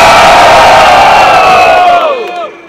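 Loud crowd at a Rio de Janeiro rap battle roaring and shouting for rapper Mineiro's rhymes, a dense sustained cheer with audible yells that cuts off abruptly near the end.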